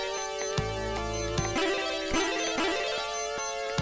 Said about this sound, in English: You can hear that's my alarm on my watch.